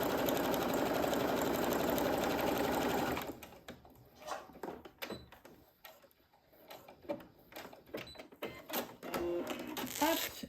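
A domestic sewing machine runs a steady topstitching seam on patchwork fabric scraps for about three seconds, loud and continuous, then stops, leaving scattered handling clicks and rustles of the fabric.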